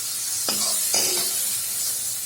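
Shrimp frying in oil in a pan, a steady bright sizzle throughout with two short scraping stirs of a utensil against the pan midway, no voices.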